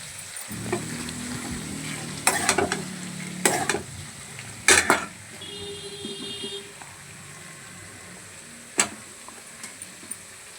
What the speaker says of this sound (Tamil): கத்திரிக்காய் போட்டாச்சு, நல்லா வதக்கிக்கலாம்